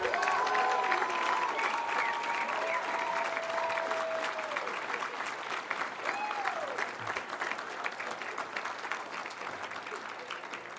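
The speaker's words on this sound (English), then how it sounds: "Another round of applause for all of our scholarship recipients." A round of applause for scholarship recipients at the 2018 Keeper of the Dream event, sustained clapping from the audience that slowly eases in level, with faint voices and tones drifting over it.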